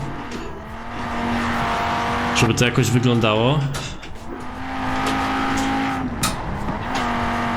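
An Audi RS2 with quattro all-wheel drive in Forza Horizon 4 drones with a loud, steady engine note while drifting, rising in a brief rev with tire squeal midway, under someone talking.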